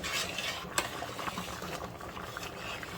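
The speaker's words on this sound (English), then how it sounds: "Stir it one more time" Rice and peas stirred in a pot at a hard boil, with a steady bubbling, sizzling wash and soft scraping strokes throughout, fairly close and without voices.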